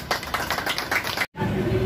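Applause greeting teachers at a Teachers' Day honouring ceremony in a ward of Bhadreswar, a brief burst of scattered hand claps with voices mixed in, cut by a short silence before a new scene.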